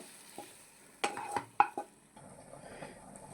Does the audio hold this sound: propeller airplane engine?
no